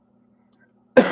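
A single harsh cough from someone with a nasal cold bursts out loudly near the end after near silence, close to the microphone.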